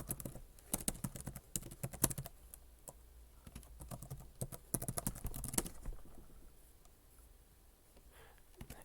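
Quiet, irregular bursts of key clicks on a computer keyboard as login credentials are typed in a software setup, clustered taps with brief pauses and a calmer stretch toward the end, no talk.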